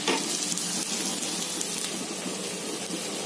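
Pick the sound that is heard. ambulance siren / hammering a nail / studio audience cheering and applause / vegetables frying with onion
vegetables frying with onion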